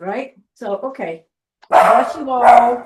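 A dog barks and yelps loudly in a couple of drawn-out bursts near the end, following a stretch of people talking.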